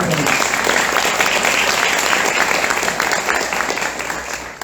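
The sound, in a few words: applause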